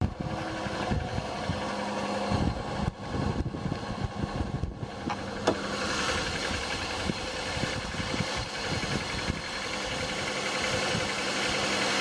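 A cold 2001 Chevy Malibu with the 3.1 V6 idles with a steady, loud mechanical rattle and knock. A fan hums along beneath it, and the sound continues without pause and without any talk.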